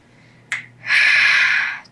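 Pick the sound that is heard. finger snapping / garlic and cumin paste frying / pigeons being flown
finger snapping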